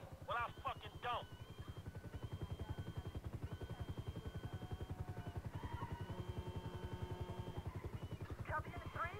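Police helicopter in GTA V, a steady rapid rotor thump throughout at moderate level, with radio-style voices talking over it.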